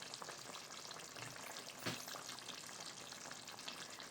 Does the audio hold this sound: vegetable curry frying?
yes